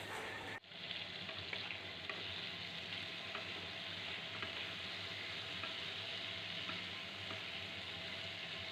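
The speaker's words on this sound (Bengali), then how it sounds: "পুরো আলু আর শালগম বা বিটকপিগুলোকে একটু ভেজে নিচ্ছি নাড়াচাড়া করে মিনিট 2 ধরে।" Potatoes and kohlrabi fry in hot oil in a pan, a steady broadband sizzle with faint scraping as they are stirred, close and continuous with no talk.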